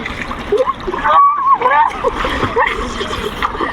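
Water splashing and sloshing close by as people swim and bathe in the Ganges, with lively voices talking and calling out over the splashes.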